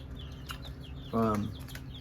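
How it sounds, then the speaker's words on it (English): A chicken in a small garden growing patch gives a single short, loud cluck against faint background ambience and distant chirps. "Good chicken."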